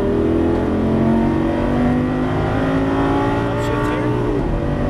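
Lamborghini Superleggera at full throttle on the Exotic Racing track in Las Vegas, a loud, close engine roar with rising harmonic pitch as it accelerates, continuous throughout.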